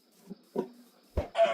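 A Minecraft chicken clucks in a few short, scattered bursts, the last one louder and fuller, heard alone against a quiet game background.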